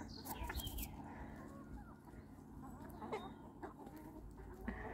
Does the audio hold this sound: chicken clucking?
yes